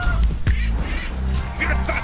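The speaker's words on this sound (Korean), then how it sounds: "세 번째는 우리나라에서는 새벽에 많이 듣죠. 닭 울음소리입니다." AI-generated rooster crow sound effect, a single loud, close call with harsh, nasal, honking tones lasting about two seconds before cutting off abruptly.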